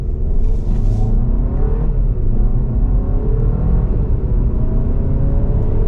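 A 2024 Hyundai Santa Fe with a 2.5-liter turbo four and an 8-speed dual-clutch accelerates hard, its engine a loud, steady, close rumbling drone with rising revs throughout and no talking.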